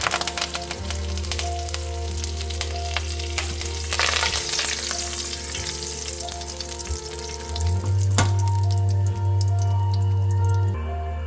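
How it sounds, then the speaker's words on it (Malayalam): Dried red chillies and curry leaves fry in hot oil for a Kerala-style dish, a continuous close sizzle with crackling pops over a low steady hum. No one speaks. "അതിലോട്ട് കുറച്ച് കറി ലീവ്സും കൂടെ ആഡ് ചെയ്യാം."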